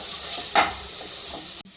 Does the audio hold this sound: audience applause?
no